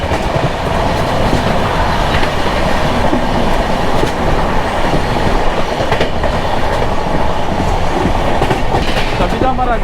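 Chennai Express running from Mumbai LTT toward Chennai Central, a steady loud rumble of the moving train with rhythmic clickety-clack of wheels on rail joints throughout, heard from inside a swaying coach.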